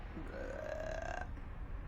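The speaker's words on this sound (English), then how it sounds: "He burped on him." A cartoonish burp from a character in an RPG Maker MV game, a single drawn-out, rising belch lasting about a second over a faint game background.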